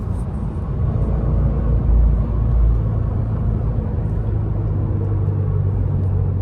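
2020 Subaru WRX being driven, a steady loud low engine rumble heard from inside the cabin, swelling slightly midway and continuing without talk.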